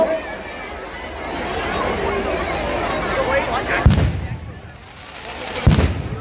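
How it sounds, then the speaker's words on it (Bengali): A nighttime fireworks display sounds as a continuous crackling rumble with two sharp, booming bursts near the end, while voices chatter in the background. "উপভোগ করতে থাকুন আমাদের আজকের আতশবাজি প্রদর্শনী।"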